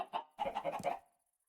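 Chickens cluck in the Minecraft video game: a short burst of a few clipped clucks close up, a brief pause, then a quick run of clucking that fades into silence.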